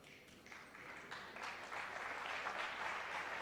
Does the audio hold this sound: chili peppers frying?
no